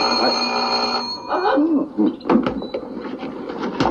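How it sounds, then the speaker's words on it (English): Rings from an old-fashioned telephone bell in a 1942 Abbott and Costello comedy, a long steady ring that cuts off and gives way to clattering handling sounds and voices. "Answer the phone."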